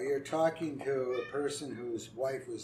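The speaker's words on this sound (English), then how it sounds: "Is that the cat? That's the cat." A house cat meows repeatedly, several drawn-out, wavering calls close to the microphone, interleaved with someone talking indoors.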